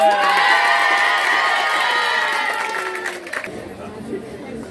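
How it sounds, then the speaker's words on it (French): A school audience cheers for a student speaker with loud shrill shouts and whoops from children and a crowd, strongest at first, then fading into scattered calls and chatter. "Sous vos acclamations, bien sûr"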